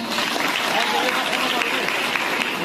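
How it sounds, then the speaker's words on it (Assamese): An audience at a student union award ceremony claps in a dense, steady wave of applause, loud and sustained throughout with no pauses. "আহক প্ৰথমে আমি এটা হাত চাপৰিৰে আটাইকে জনাওঁ স্বাগতম"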